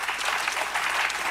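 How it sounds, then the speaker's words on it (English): A studio audience on Whoopi Goldberg's talk show bursts into applause, a dense and even patter of many hands clapping close by with no pause. "Okay, the audience clapped."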